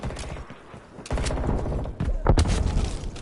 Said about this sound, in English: let's throw a frag